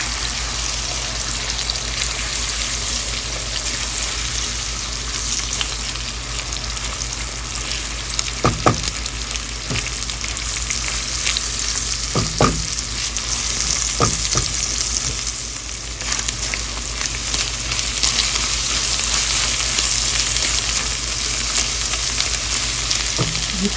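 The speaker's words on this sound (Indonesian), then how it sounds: "aduk perlahan seperti ini agar telur ini tidak terlalu hancur nanti" Beaten egg gently stirred as it fries in a pan for martabak telor, a constant bright sizzle with a few soft scrapes and taps of the spatula scattered through, close and steady with no talking.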